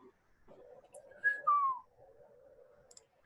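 A person whistles two short rising-and-falling notes close by, with a low murmur of background voices and room noise underneath during a tabletop fantasy role-playing session.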